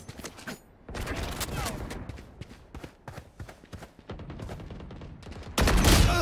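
Rapid gunfire in the video game Valorant, dense bursts of sharp shots in quick succession, close and loud, growing heavier toward the end.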